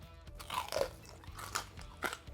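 Crunching bites into crispy roast pork belly rind (sio bak) made in an air fryer, a close, fairly quiet run of crackly chewing crunches with several sharper snaps, no talking.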